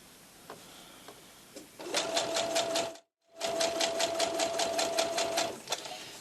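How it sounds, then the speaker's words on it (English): A sewing machine chain-stitches fabric pieces for a baby blanket in two fast rattling runs, broken by a brief pause, with light clicks before and after. "I'm going to sew all of them in a chain"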